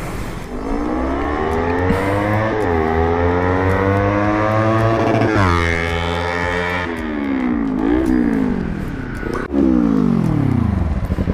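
A Kawasaki Ninja 300 fitted with an SC Project exhaust revs and rides past, loud rising and falling engine notes sweeping through several gear changes as it approaches and pulls away.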